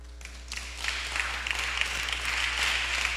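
A congregation at a church teaching session claps together, a growing patter of hands that builds over about three seconds over a low steady hum.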